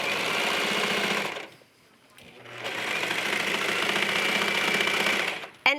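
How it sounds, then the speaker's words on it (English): A serger overlock sewing machine stitching a seam on leggings runs in a fast, buzzing rattle, pauses for about a second, then resumes steadily before a small click at the end. "we're going to sew this entire seam with the serger"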